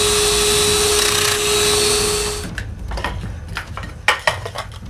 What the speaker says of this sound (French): Je fais ça en plongeant la fraiseuse à répétition à des endroits différents.